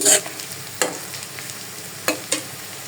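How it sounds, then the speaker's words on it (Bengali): Small shrimp fry in a pan with onion and green chilies, a soft steady sizzle punctuated by four sharp stirring scrapes spaced irregularly, close by with no talk. "একেবারে লাল লাল করে আর কি ভেজে নিব"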